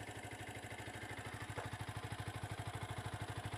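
A warm Yamaha YZF R125 motorcycle engine idles steadily, a rapid, even low thudding pulse with light mechanical clatter, close and continuous with no talk.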